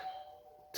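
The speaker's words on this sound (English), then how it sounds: "Just had the doorbell ring in the middle of my recording" A doorbell chime sounds at home, one sustained ringing tone that fades over under a second, fairly faint and heard alone with no talk, cut off by a sharp burst at the end.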